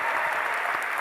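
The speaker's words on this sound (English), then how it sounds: "Give him a round of applause for that." Audience applause at a political talk event, a brief, dense burst of clapping that holds steady and loud for about a second.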